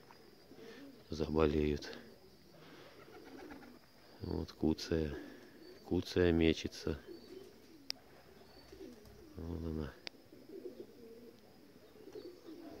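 Soft, low cooing of pigeons at a dovecote in a few bursts, with someone talking in between and over the calls.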